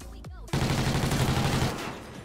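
Hip-fired automatic gunfire in Call of Duty: Ghosts, a loud, dense burst of rapid shots that follows a short vocal sound, then tails off into game noise.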